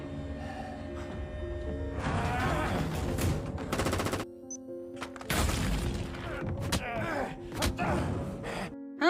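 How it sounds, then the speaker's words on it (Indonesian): Sustained bursts of gunfire sprayed blindly in a film fight scene, loud and dense, with rapid shots and booms broken by short gaps and brief gasps. "saat itu Jiman pun langsung menembak Bale secara membabi buta"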